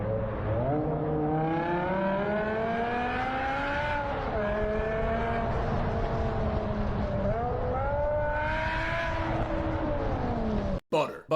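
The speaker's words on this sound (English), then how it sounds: "M5 F1 inspired V10 engine, the S85. My favorite BMW engine ever made." A BMW M5 with the 5-litre S85 V10 screams through a tunnel, its high-pitched engine tone rising and falling through several gear pulls with reverberant echo, loud and close, ending in an abrupt cut.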